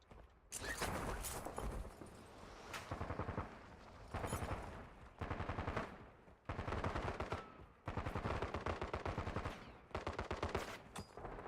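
Bursts of automatic gunfire from players shooting in Call of Duty: Warzone, loud rapid volleys in repeated clusters separated by short gaps, with occasional heavier booms.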